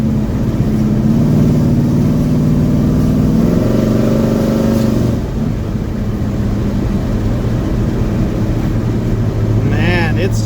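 A 1969 Pontiac GTO cruising along the road, its engine a loud steady low drone with a couple of shifting tones as the car moves, under someone talking from inside the cabin.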